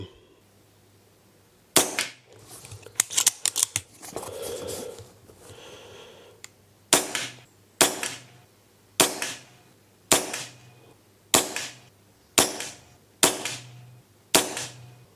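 Air rifle shots fired at a splatter target outdoors, about nine sharp cracks spaced roughly a second apart, each with a short ringing tail, after some scattered clicks and handling noise at the start.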